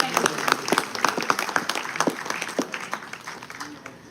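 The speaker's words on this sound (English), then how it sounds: "Let's keep that applause going." Audience applause at a lecture on cross examination, a brisk scatter of claps from a mid-sized crowd that fades slightly toward the end.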